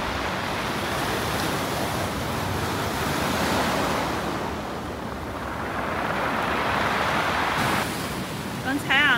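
Huge storm waves crash continuously on the shore at Kardamyli, Greece, a loud, roaring wash of surf with heavy wind buffeting the microphone throughout.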